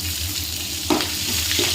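Onions frying over a low gas flame for churmuri, a close, steady sizzle with a couple of brief stirring scrapes.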